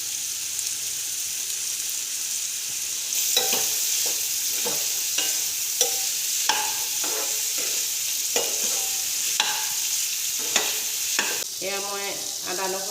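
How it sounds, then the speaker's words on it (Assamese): Ginger garlic paste frying in a pan for a soyabean curry: a steady sizzle that turns into a series of close scraping stir strokes, with a louder spattering burst near the end. "এয়া মই আদা নহৰুখিনি বটাখিনি মই দি দিছোঁ ইয়াত"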